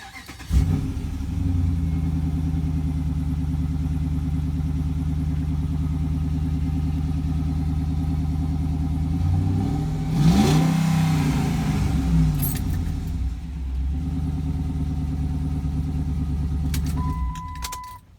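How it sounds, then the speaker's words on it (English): A truck engine cranks and catches, then runs at a steady rumbling idle, swells in a revving burst near the middle, settles back and cuts off at the end, close and loud with no talk. "Here, I'm going to start the truck."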